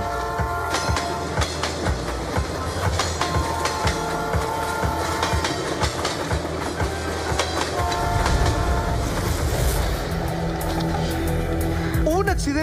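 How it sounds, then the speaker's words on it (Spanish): A train rumbles past in Maipú with rhythmic clacking and mechanical clatter, then a high, sharp whistle rises over the steady noise near the end. "tan real como el ruido de su maquinaria, un silbato tan agudo"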